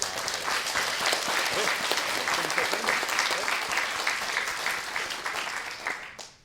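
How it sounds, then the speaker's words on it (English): An audience applauds at a primary schools state debating championship, steady, fairly close clapping of a moderate crowd that fades out at the end. "another round of applause for a pretty"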